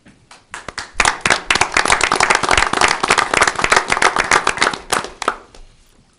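A room of people at a borough council meeting claps for the borough staff, a dense burst of applause that swells quickly, holds for several seconds, then tapers off.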